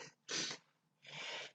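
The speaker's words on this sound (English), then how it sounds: "I gotta sneeze. Hang on a second." Two separate sneezes from one person, each a short, loud, breathy burst with a quiet gap between them, close to the listener and with no talk over them.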